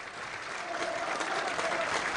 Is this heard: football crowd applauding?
yes